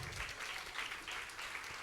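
A church congregation claps loudly in praise of the Lord, a dense, steady wave of applause that fills the room without pause.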